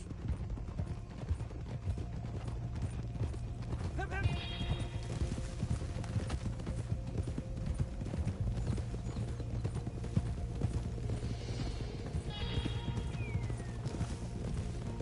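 Horses trot in Red Dead Redemption 2 with steady, continuous clip-clop hoofbeats throughout, plus a couple of brief neighs partway through and quiet mechanical creaks underneath.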